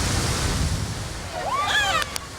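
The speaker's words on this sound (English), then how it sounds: "here goes Tevita tucking into the tube." Eight-foot surf at the Fiji Pro contest: a steady, broad rush of breaking waves fills the air, with a brief high whistling sweep near the end.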